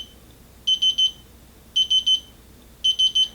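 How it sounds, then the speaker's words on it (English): Torque wrench sounding its electronic warning as it nears a set torque limit while installing iron sights on a handgun: three sets of three quick high beeps, clear and close over a quiet background. "It's letting me know that I'm approaching the torque limit that I set on the torque wrench."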